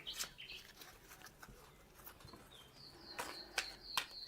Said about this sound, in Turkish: kuş sesleri eşliğinde